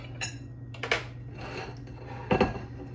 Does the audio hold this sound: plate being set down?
yes